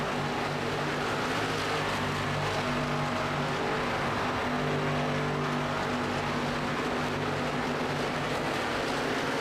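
Steady engine drone of race cars in an ARCA series sim racing game at Auto Club Speedway, a continuous loud roar with sustained tones and no talking.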